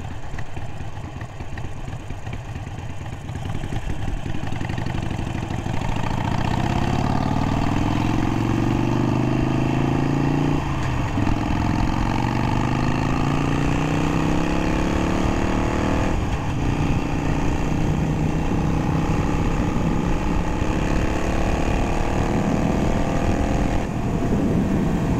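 A motorcycle engine runs continuously close by, a loud steady drone whose pitch climbs and dips as the throttle is opened and eased, with no talking.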